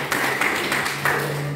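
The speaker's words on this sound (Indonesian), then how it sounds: "beri tepuk tangan" A small audience at a school teacher training session gives a brief burst of clapping, a few sharp claps over steady room hum.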